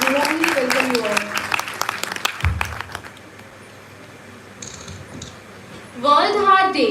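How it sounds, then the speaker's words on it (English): A hall audience at a university World Heart Day celebration breaks into a burst of clapping applause that fades after a few seconds, followed by a voice speaking. "A big round of applause for all our honorable guests present here"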